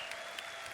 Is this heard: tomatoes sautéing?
no